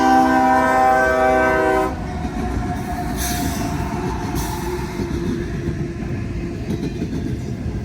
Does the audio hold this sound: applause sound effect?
no